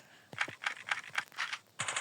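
Short rapid bursts of gunfire in the game Chicken Gun, several quick cracks in a row, then a brighter final burst, close and loud.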